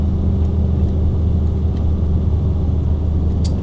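A truck engine drones in 11th gear in Euro Truck Simulator 2, a steady low rumble that holds constant throughout with faint clicks on top.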